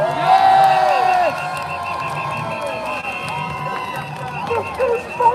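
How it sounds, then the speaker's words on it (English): A crowd at a Stand Up X live event in Birmingham cheers and whoops in a sustained wash of voices, with a few louder shouts rising near the end. "Can you give yourselves a big round of applause?"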